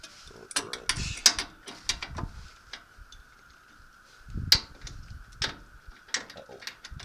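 Wrench ratcheting on the CV axle of a 1989 Nissan D21 Hardbody pickup, heard as a string of short, irregular metallic clicks and bursts close by, with pauses between strokes.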